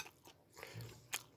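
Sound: chewing frozen Chicago pizza

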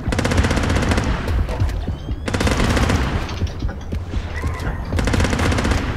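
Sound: beer gun firing in a video game

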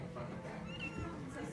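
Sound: cat meowing

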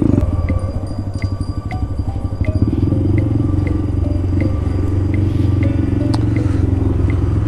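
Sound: vehicle exhaust revving

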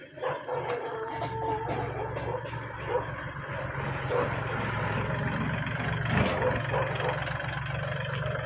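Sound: Kubota L3608 tractor engine

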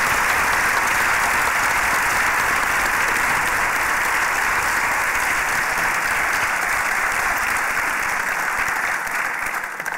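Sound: audience applause

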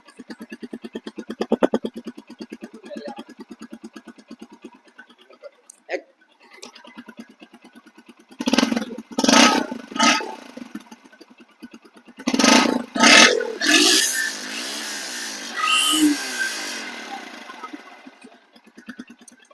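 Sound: Bajaj Pulsar 125cc motorcycle engine revving

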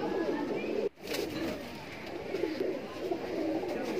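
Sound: Kaldume pigeons cooing in a loft

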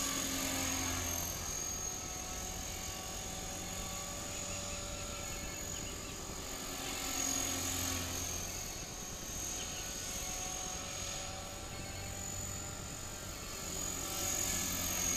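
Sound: helicopter rotor blades flying above trees

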